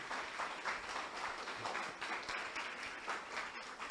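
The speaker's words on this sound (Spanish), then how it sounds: "Un fuerte aplauso para el Padre Juan Carlos" Audience applauding Father Juan Carlos at a liturgy week session, a soft, steady patter of many hands clapping that continues evenly throughout.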